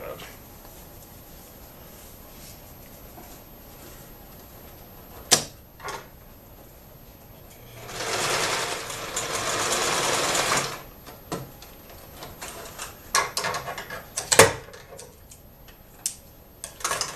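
Sewing machine stitching and backstitching a sandbag seam, a steady buzzing run of a couple of seconds in the middle, with scattered ticks and clicks before and after.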